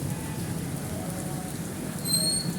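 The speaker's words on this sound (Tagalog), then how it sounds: "Kita nyo naman lakas ng ulan dito." Heavy rain falls steadily as a dense, even hiss of drops, with faint traffic noise underneath and a brief high tone near the end.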